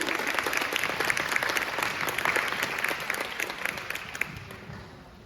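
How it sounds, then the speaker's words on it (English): Dense audience applause greets the guest speaker at a nutrition talk, steady sustained clapping from a large crowd that fills the whole stretch with no voices over it. "So y'all just give Dr. Jeff Crippen a great round of applause"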